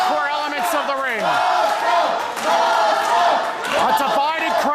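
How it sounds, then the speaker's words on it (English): A loud, divided crowd at a live pro wrestling match yells and cheers continuously, with shouts and whistles rising and falling throughout; a commentator talks over the noise. "A divided crowd, some cheering for Mojo, but some enjoying the antics of the visitor"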